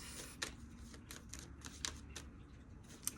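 Quiet, quick riffling and soft snapping of cards being shuffled, a few sharp clicks among a low background hum.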